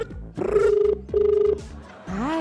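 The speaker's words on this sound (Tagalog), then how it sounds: "It's ringing." A telephone rings in two sustained electronic bursts, each about half a second long, followed by a short fragment at the end. The ringing is fairly close and clear.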